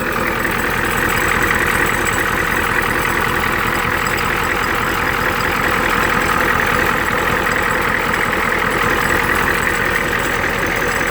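A naturally aspirated 7.3 IDI International Harvester diesel idles in a 1990 Ford Lariat truck, a loud, steady, close clatter that holds constant without pause.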